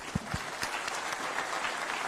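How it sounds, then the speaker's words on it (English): A crowd applauding at the Kenya-European Union Business Forum in Nairobi, dense and continuous with a few sharper claps standing out at the start. "A round of applause for His Excellency."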